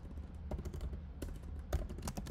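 Soft keystrokes on a computer keyboard, a quick run of light, close clicks typing a short business name, fairly quiet and alone.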